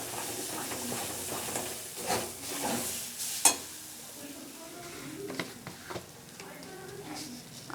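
Potatoes with salt, turmeric and a little sugar stirred in a pan, a soft sizzle with intermittent scraping and clinking of the spatula, quiet and close, with occasional faint speech.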